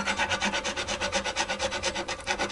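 Fine file rasping across the bone nut slots of a Fender USA hybrid Stratocaster during setup, a steady back-and-forth grinding in quick even strokes, close and alone with no talk.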